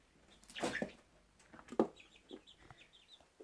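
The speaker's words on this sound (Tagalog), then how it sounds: "Pero ang laman nito ay mga manok muna." Chickens cluck in short, scattered bursts nearby, a few louder calls among softer chatter against a quiet background.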